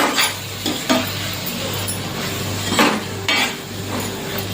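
Mashed roasted eggplant bharit is stirred and sautéed in a pan, with close scraping and clinking of the spoon against the metal over a soft sizzle, repeated in short strokes.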